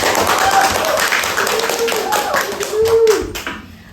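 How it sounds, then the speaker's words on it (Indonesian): A group claps for a student department being welcomed onto a campus podcast, a quick burst of close handclaps mixed with cheering voices that fades out after a few seconds. "Kasih tepuk tangan yang meriah."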